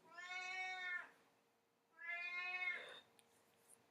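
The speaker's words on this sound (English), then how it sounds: "my cat makes an appearance in every single Zoom meeting" A pet cat meowing indoors near a computer during an online meeting: two drawn-out, clear meows about a second apart, fairly close, with no talking around them.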